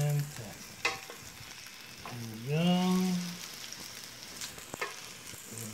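Pork belly fries in a generous amount of oil, a low, steady sizzle close by, with a voice briefly rising over it partway through.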